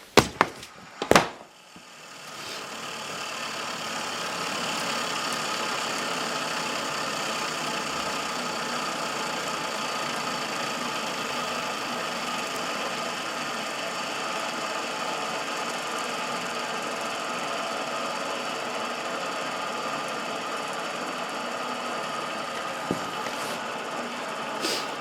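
Skateboard wheels with corroded steel bearings spinning freely after treatment with Ionic Flux Black Steel Bearing Lube, a steady continuous whirring hum that runs for over twenty seconds after a couple of sharp knocks at the start, with no talking.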